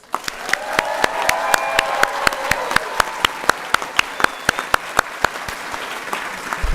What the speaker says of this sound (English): let's give our graduates, our alums, another round of applause.